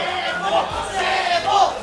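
A crowd roars and cheers through a Marvel vs. Capcom 3 fighting-game tournament match, with sustained loud swells of voices, a mix of indistinct shouts, and no clear break in the noise.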